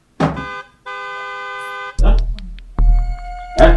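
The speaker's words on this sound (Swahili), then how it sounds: "Yeni honi nasikia iko hapa nje ama?" A car horn honks outside during a domestic drama, sounding as a long sustained tonal blast and later a second shorter toot, with bursts of talk between and over them.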